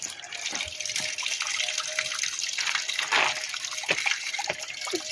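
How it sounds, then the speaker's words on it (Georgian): Spring water flows steadily beside a stepped footpath, a continuous close splashing rush with occasional bubbling surges and no talk. "წყაროს წყალია ნახე?"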